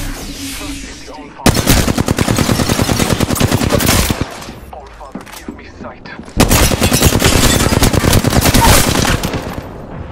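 Automatic weapon fire in the video game Apex Legends: two long, rapid bursts of loud gunfire separated by a quieter pause with scattered game sounds and shots, heard close up.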